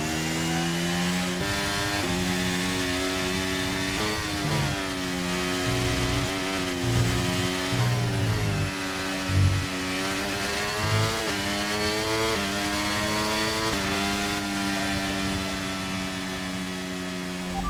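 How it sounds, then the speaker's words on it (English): An F1 race car engine roars in the F1 23 video game at the Red Bull Ring, revving high continuously with its pitch climbing and dropping through gear changes, loud and steady. "We need to keep the engine cool though, so don't go too high with the revs."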